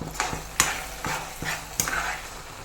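Red spinach (cheera) curry being stirred in a pan on a medium flame, with a spoon scraping and clinking against the pan in a few separate strokes over a soft, steady sizzle.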